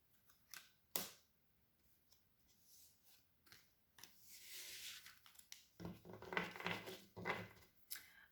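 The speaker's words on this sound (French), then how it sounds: "Je vais recouvrir les cartes." Cards handled during a tarot reading: scattered soft slaps and brushing shuffles, then a denser stretch of rustling and tapping as the cards are covered, close and fairly quiet.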